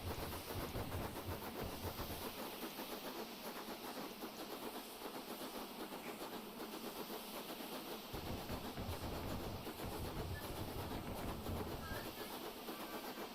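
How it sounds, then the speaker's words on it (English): Steam locomotive exhaust beat in a train simulator game, a steady chuffing hiss with rail clatter whose rhythm shifts as the reverser is moved, heard continuously throughout. "Move the reverser a bit more that way. So you can hear the beat change."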